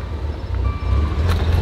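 A car engine with a bad spark plug idling roughly, a close, continuous low shuddering rumble with slight uneven pulses and a faint whine.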